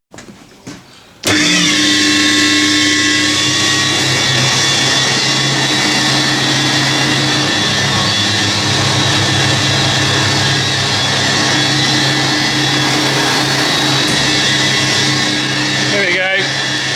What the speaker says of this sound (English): I'm going to put the washer on now and that'll give it a really good rinse out